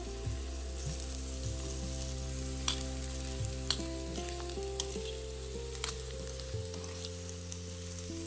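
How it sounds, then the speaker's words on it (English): Bitter gourd kadhi sizzles steadily in a pan as groundnut powder and jaggery are stirred in. Soft scraping and stirring ticks sit over a constant low hiss, with no talking. "Now add groundnut powder to the kadhi along with jaggery and mix it well."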